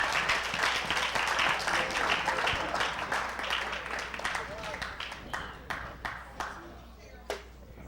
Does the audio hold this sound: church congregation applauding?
yes